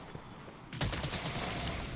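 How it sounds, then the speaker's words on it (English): A light bowgun in Monster Hunter World fires dragon ammo, a sudden burst that starts partway through and rolls on as a sustained roaring blast, moderately loud with no talk. "So we bring the gun out and we shoot."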